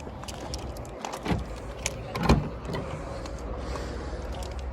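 A 2014 Honda Civic 1.6 i-DTEC is unlocked and opened, with keys jangling, a few clicks and a latch clunk close by over a steady low hum.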